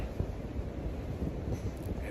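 Steady wind buffets the microphone on the Appalachian Trail in cold conditions, a continuous low rumbling roar with no voices.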